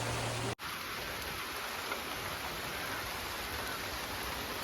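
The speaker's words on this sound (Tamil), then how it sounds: "கணக்கான மழை தான் காய்ஸ் பேஞ்சிட்ருக்குது" Heavy rain pours down in a steady, dense hiss, close and continuous after a brief cut near the start, with no voices.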